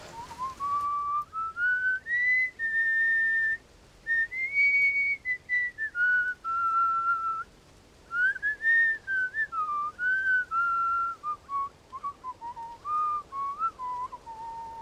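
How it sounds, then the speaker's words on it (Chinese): A person whistles a song tune, clear sustained melodic phrases with brief breaths between them, close and loud, alone without talk. "那你怎么会吹这个口哨呢？"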